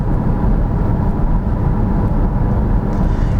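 A Renault Captur 1.3 TCe 130 HP with EDC gearbox cruising in Eco mode, heard from inside as a steady, low engine and road rumble that stays even and unbroken throughout.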